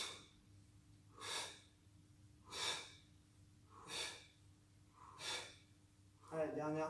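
Four forceful, breathy exhalations during a core twist exercise, evenly spaced about every second and a half, close and fairly quiet, followed by a short voiced breath at the end.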